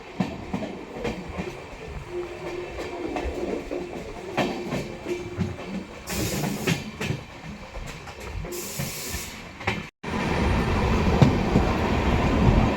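A delayed passenger train pulls into Phaphund station on the loop line, carriages rumbling with clattering wheels and bursts of brake hiss, then a sudden louder roar near the end; no talk.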